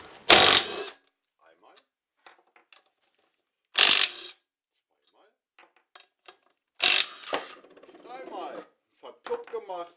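An impact wrench loosens a bolt at the rear wheel of a Peugeot Elyseo 125 scooter during drum brake work: three short, loud rattling bursts spaced a few seconds apart, with quiet workshop talk in the gaps.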